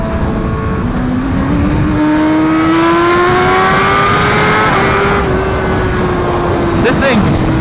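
BMW HP4 motorcycle fitted with an SC Project exhaust accelerating hard, a loud rising engine whine climbing steadily through the gears, close and continuous with a brief shift dip, a voice speaking over it.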